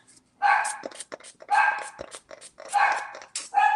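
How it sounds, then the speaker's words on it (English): A small guard dog barks in three or four close, loud bursts of rapid yapping with short pauses between them, nearby and alone. "I have a little guard dog."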